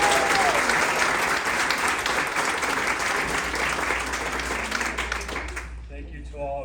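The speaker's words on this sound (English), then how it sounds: "Let's give the staff at Blue Lakes a round of applause." An audience at a health care event honoring nurses gives hospital staff a loud, dense round of applause that runs steadily before tapering off, with a voice faintly audible over the end.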